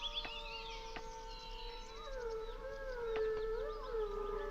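Wolves howling in the game Dungeon Full Dive, several long wavering howls overlapping at different pitches, rising and falling, sounding distant and moderately faint with no talking.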